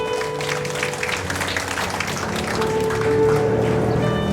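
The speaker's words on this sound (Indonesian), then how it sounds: "Tepuk tangan untuk Tuhan." A church congregation claps for God during an anniversary service, a dense, sustained applause from many people that swells slightly toward the end, close and loud throughout.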